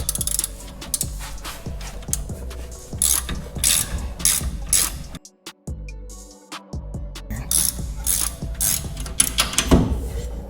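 A ratchet works an 18 mm top bolt on a rear brake caliper of an LBZ Duramax, loud rapid clicking in bursts, pausing briefly midway before cranking again close up.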